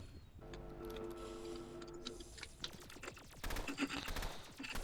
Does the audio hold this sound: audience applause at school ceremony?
no